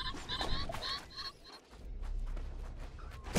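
Turkeys in the video game Shelter 2 gobble in a run of quick, wobbling calls near the start, then fainter calls continue over a steady outdoor ambience.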